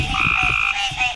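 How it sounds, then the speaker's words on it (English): A green tree frog gives a loud, close croak, a single nasal call lasting about a second, heard clearly with no voices over it. "This is a green tree frog."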